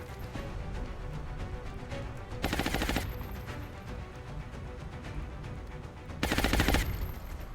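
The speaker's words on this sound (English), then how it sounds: "So now Jenkins can shoot at him safely." Suppression fire in XCOM: Enemy Unknown rattles as steady automatic bursts, with two louder, sharper bursts standing out at intervals; no talking is heard.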